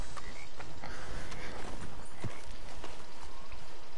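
A horse in the video game Red Dead Redemption 2 makes a steady run of clip-clopping hoofbeats at moderate volume over a constant background ambience.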